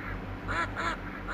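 Ducks in the video game Killing Time: Resurrected give a few close quacks in a short rhythmic run over a steady low game background hum.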